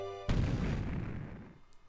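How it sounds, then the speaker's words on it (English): A sudden explosion from a basement in Pokemon Ranger: Shadows of Almia cuts off a tone with a single sharp boom, then a rumbling decay that fades over about a second and a half. "What was that, an explosion? That noise came from the basement."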